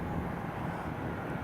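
A United Boeing 777 at Chicago O'Hare airport gives off a steady, broad jet roar that holds constant, loud and continuous, with no voices over it.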